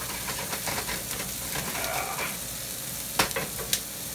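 Tomatoes grill in a hot pan for an Irish breakfast, a dense steady sizzle and crackle close by, with two sharp utensil clicks near the end.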